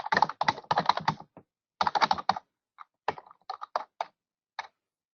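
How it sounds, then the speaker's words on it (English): Loud typing on a computer keyboard, close and sharp, in quick bursts of rapid keystrokes followed by slower scattered taps and pauses, with no talk over it. "I hear somebody very loud typing."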